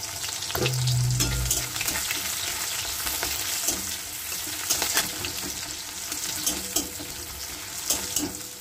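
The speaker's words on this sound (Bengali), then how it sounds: "তেল গরম হয়ে গেছে, এর মধ্যে আমি একটা মিডিয়াম সাইজের পেঁয়াজ কুচি নিয়েছি, দিয়ে দিলাম।" Chopped medium onion hits hot oil with a loud initial sizzle, settling into steady crackling frying with scattered stirring clicks and scrapes, close and alone.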